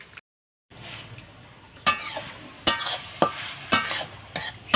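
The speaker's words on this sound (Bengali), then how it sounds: "এই যে নাড়ছি শাকটা" Greens are stirred in a pan, sharp scraping strokes recurring every half second or so over a soft background sizzle, after a brief silent gap at the start.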